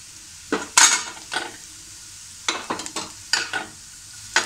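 Dried coconut with reddened onion, garlic and ginger sautéing in a pan for misal, with a low steady sizzle broken by several short bursts of spatula stirring and scraping.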